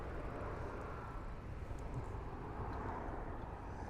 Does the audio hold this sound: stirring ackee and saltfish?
no